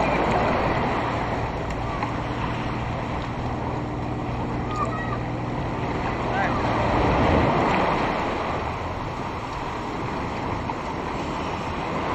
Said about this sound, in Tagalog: Ay, dito yung hangin.